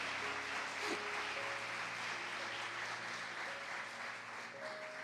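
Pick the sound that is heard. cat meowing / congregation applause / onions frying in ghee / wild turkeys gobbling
congregation applause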